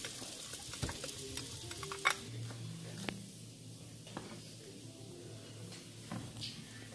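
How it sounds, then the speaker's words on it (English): Onions frying in leftover bacon grease in a Dutch oven, a steady low sizzle with occasional scraping stirs and knocks, fairly quiet and close. "I'm going to go ahead and put my onions in here now."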